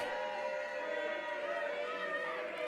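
Wrestling crowd at a Benchmark Pro Wrestling match voicing its feelings toward Gideon Haze during his bout with Brandon Day, a steady dense murmur and chant-like roar of many voices, continuous and fairly distant.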